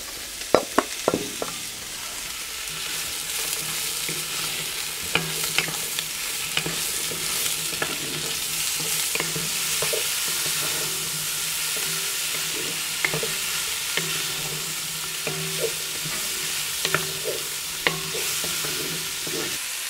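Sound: sausages frying in oil in a Dutch oven

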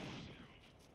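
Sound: gunfire from the video game SCUM

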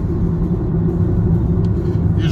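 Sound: Nissan Leaf electric car driving at 78 km/h

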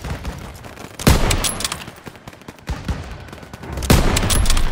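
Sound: gunfire in Call of Duty WWII video game battle

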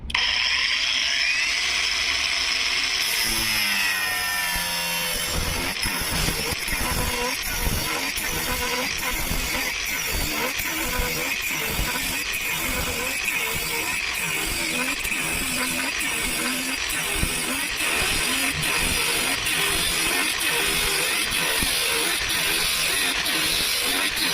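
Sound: angle grinder Revolt AG 20/125M cutting with cut-off disc

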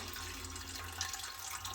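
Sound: warm water being poured for a bread machine

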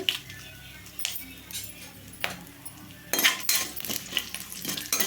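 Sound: tempering spices frying in oil

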